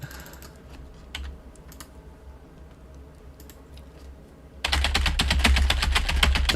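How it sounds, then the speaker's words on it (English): A computer keyboard is hit with assorted objects and typed on: scattered clicks and thumps at first, then a dense, loud burst of rapid key clatter near the end, close and with no talking. "sound of me smashing my keyboard with a bunch of things and accidentally pressing cap lock"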